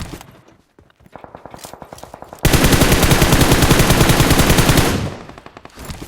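M4 rifle fire in PUBG: short scattered bursts, then one long, loud, unbroken stream of rapid automatic shots that stops abruptly.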